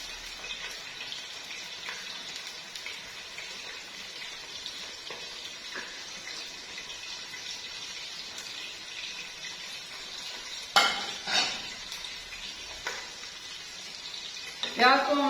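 Medium onions fry lightly in hot oil, a steady close sizzle running throughout, broken near the end by a few louder bursts of stirring and scraping in the pan, with no voices.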